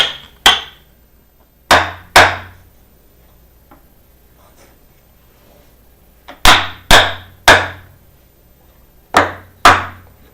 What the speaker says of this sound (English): So I'm gonna hammer them down.